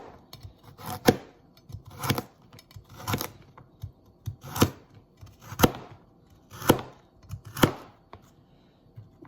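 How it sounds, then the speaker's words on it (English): A kitchen knife cuts carrots on a cutting board with nine sharp chops at an uneven, unhurried pace, each one close and crisp against a quiet background. "Cut 4 cups of carrots."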